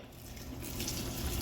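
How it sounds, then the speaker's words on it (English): Water poured into a dry-stack concrete mix as a steady, close wash of liquid, growing slightly fuller partway through, alone with no voices. "Most importantly, water was then added to the mixture."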